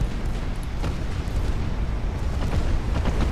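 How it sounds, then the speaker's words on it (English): A sunk warship's ammunition cooking off in the naval game Ultimate Admiral: Dreadnoughts, heard as a continuous rumbling roar of dense low booms and bursts that run on without a pause. "So it's cooking off after we sink her."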